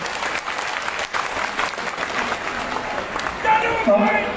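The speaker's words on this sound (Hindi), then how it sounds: "मैं चाहूंगा एक बार और जोरदार तालियां नगरोटा वासियों को बजाएं" A crowd of Nagrota residents at a political rally in Himachal Pradesh claps loudly and steadily, with a voice and some crowd noise rising near the end.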